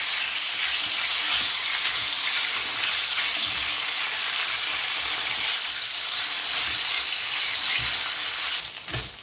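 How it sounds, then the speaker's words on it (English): Pork pieces stir-fry in a pan for a pork and chickpea stew, a loud continuous sizzle up close with soft scraping stirs, easing off slightly at the very end. "I'm going to stir fry this for about 5 minutes"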